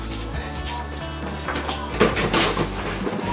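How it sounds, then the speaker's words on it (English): Lids being pulled off trash cans during a kitchen fridge clean-out, giving a couple of close, scraping knocks over steady background hum. "Sorry about the noise there, taking the lid off the trash cans"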